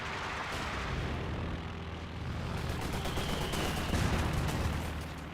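Artillery and gunfire in the Company of Heroes 2 battle game, a dense continuous rumble of shots and distant blasts that swells slightly louder toward the end, with no talking.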